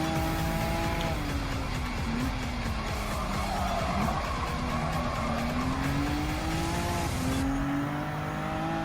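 Honda NSX '17 engine held at full throttle on the Daytona International Speedway in Gran Turismo 7, a loud, steady high-revving race-car drone with rising pitch sweeps through the gears and faint tire squeal, no talking.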